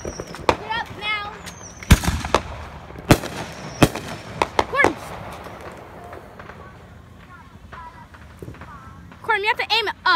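Fireworks and firecrackers set off outdoors at an anniversary celebration: several sharp bangs and crackles scattered through the stretch, with whistling bursts near the end and people talking and calling out between them.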